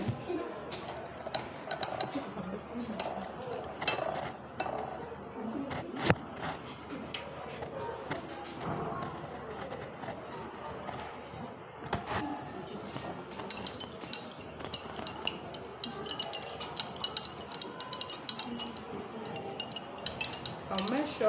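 Lab glassware clinks and taps repeatedly while phenolphthalein powder is stirred into 50 ml of ethanol, with a steady run of sharp knocks and faint shuffling.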